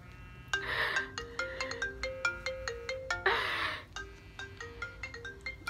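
A phone ringtone plays for an incoming call, a bright repeating electronic melody of quick plucked notes in a steady looping rhythm, loud and close, with no voices over it.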